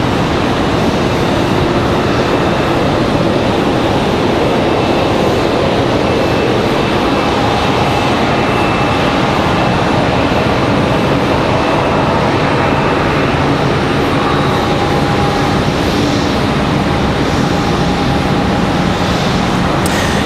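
A Boeing 777 airliner at Charlotte Douglas airport produces a loud, constant broadband jet roar that fills the whole span without letting up, steady and close.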